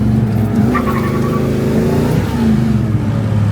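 A Chevrolet Chevelle with a 454 big-block V8 revs loud and close, its deep engine note steady and rising slightly, heard from inside the car with no talking.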